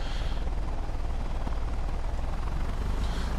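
Piper Tomahawk light aircraft engine idling with brakes set in Microsoft Flight Simulator 2024, a steady droning hum and buzz holding even and close throughout.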